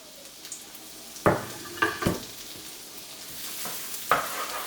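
Chopped garlic sizzles in a pan for a shrimp dinner, frying steadily on moderate heat while a utensil scrapes and stirs several times, close and clear.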